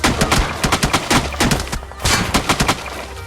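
Rapid gunfire in a battle royale shooter with a shotgun fight against several enemies, loud close bursts of repeated shots with brief pauses between volleys.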